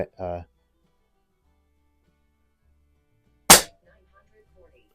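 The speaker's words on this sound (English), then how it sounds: "So I'm just going to shoot this first mag" A single sharp, close crack from a Pinty PCP air rifle being fired while shooting a magazine, preceded by a brief voice and followed by near silence.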